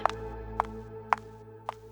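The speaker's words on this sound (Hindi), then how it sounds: "ये घड़ी की अलार्म की आवाज है" An alarm clock gives four short electronic beeps spaced roughly half a second apart, with a steady low hum underneath and no voices.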